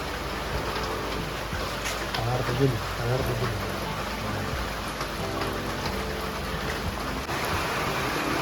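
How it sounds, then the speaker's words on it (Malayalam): Steady rain pours down in a constant hiss, with a few louder splashes and faint talk in the background. "നമുക്ക് നല്ല മഴയാണ്"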